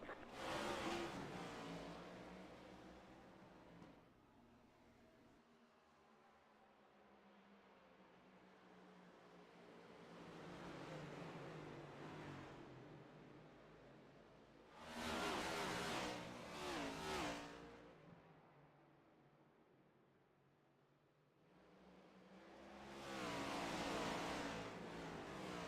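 Race cars from the iRacing sim at Richmond Raceway roar under a green flag, engines swelling and fading in long waves as the field passes, loud and sustained, with quieter stretches between bursts.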